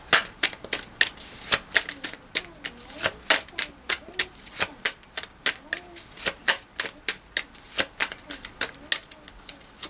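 Tarot cards are shuffled in a long, steady run of sharp riffling snaps, dozens of crisp close-up flicks in quick regular rhythm.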